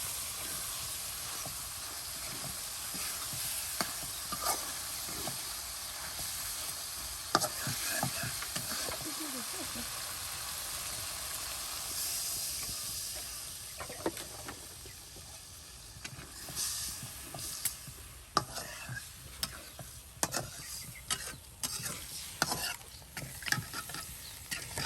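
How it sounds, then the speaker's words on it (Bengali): Tilapia fish pieces stirred with spices in a pan: a constant sizzling hiss under scattered scraping and clinking stir strokes that grow busier toward the end, with faint background voices. "কত সুন্দর করে মশলার সাথে মাছগুলো মিক্স করে নেওয়া হচ্ছে।"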